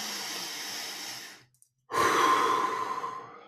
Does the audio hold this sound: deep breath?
yes